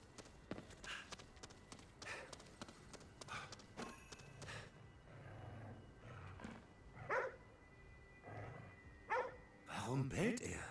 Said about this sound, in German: Warum bellt er?